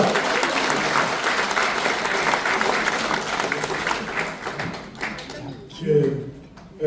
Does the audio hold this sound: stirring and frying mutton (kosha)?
no